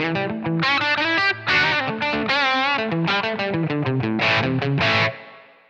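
Electric guitar played through a Blackstar amp on its dark channel with reverb on, a loud, driven run of chords and notes with a reverb tail ringing out at the end.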